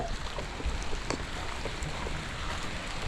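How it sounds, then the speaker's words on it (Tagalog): Steady monsoon rain falls on a farm where mango trees are being planted, a dense, even hiss that continues unbroken for the whole few seconds, with no voices. "Ayan, ulan"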